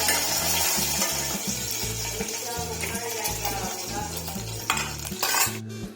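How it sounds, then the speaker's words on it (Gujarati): A large spoon scrapes and stirs through vada pav filling in a pan, a steady repetitive rhythm of metal scraping with faint sizzling underneath, close and continuous, no talking. "મોટી ચમચી લે, મોટી ને. તો જોઈ શકો છો મિક્સ કરી દઈએ અમે."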